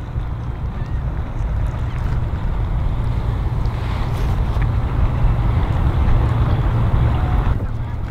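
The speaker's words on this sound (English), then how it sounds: "That outboard, I hear those new V10s are something special." A loud, steady V10 outboard motor on a boat drones close by with a deep low rumble, mixed with rushing wind and water noise.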